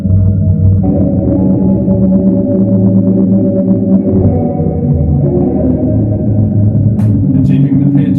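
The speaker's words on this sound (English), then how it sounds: "like a granular stopper" Music played through a Roland SPD-SX sampling pad is processed by a granular stopper effect built in Max/MSP, a loud, dense, low-pitched stretched sound with smeared tones that drags and stutters as it slows, with no voice over it.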